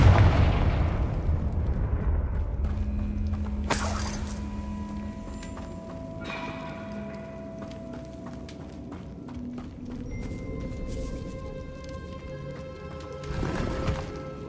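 A Confringo spell blast in Hogwarts Legacy, a sharp burst near the start followed by rumbling, tonal magical effects and another loud burst near the end, with no talking.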